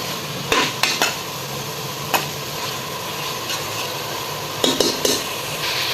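Chopped vegetables fry in a pan for vegetable pulao, a soft sizzle running underneath while a spoon scrapes and knocks against the pan in scattered, close stirring strokes.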